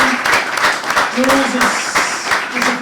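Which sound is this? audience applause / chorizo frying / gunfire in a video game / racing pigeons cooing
audience applause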